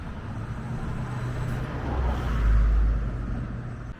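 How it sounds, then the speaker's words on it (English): Cranbourne line train arriving at Oakleigh railway station in Victoria, a low rumbling approach that swells gradually to a loud peak and then eases, with steady outdoor background noise and no talk. "Cranbourne train coming in."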